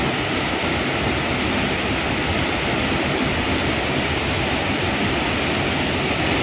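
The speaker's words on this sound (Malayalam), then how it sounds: "വെള്ളച്ചാട്ടം കാണുമ്പോൾ അവിടെ നിന്ന് നല്ല രസമാണ്" Athirappilly waterfall in Thrissur crashing down as a steady, dense roar of falling water, loud and unbroken throughout with no voices.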